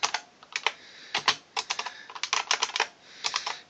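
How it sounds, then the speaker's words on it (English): Uneven typing on a Briel 8800micro computer keyboard, a string of close, crisp key clicks arriving in irregular bursts and pauses, heard alone without any talk. "some bad typing here with my left hand"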